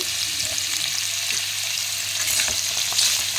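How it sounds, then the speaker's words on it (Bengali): Moringa drumstick pieces and potatoes fry in mustard oil, giving a dense, steady crackling sizzle up close with occasional soft stirring taps. "তো সজনে ডাঁটা আর আলু দুটোকেই আমি ভেজে নেব।"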